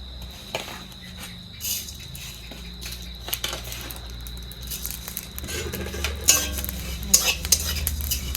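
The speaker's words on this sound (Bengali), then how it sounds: "এগুলো আবার একটু ভেজে নেব কড়ার মধ্যে ছেড়ে দেবো" Fenugreek and coriander seeds toast in a wok, a soft crackle under intermittent metal scraping and stirring that grows sharper toward the end, with a faint steady hum behind it and no speech.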